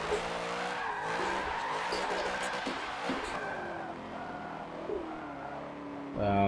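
A car drifting in a racing video game: a continuous engine drone under long, wavering tire squeal, ending in a sudden loud burst.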